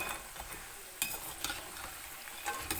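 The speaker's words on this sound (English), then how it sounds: "Fry this in a medium flame." Masala peanuts fry over a medium flame in a steady close sizzle, with soft scraping stirs and occasional light clinks of a utensil against the pan.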